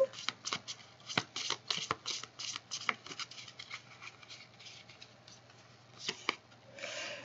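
Playing cards handled and laid out during a card reading, a run of soft, papery riffles and slaps in quick irregular bursts close up, over a faint steady hum.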